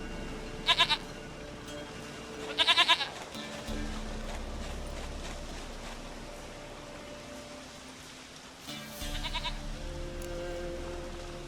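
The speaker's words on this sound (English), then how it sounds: "goat of mine, dearest," A goat in the video game The Witcher 3 bleats in short, quavering bursts, twice close together early and once more later, over a steady low ambient hum.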